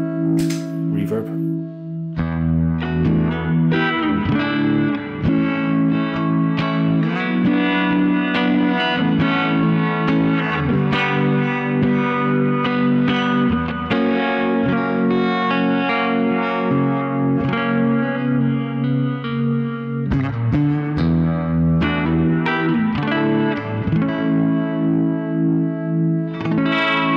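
Electric guitar through a compact pedalboard with reverb engaged, a long run of strummed chords and picked notes ringing out with lingering wash, loud and up close, no talking.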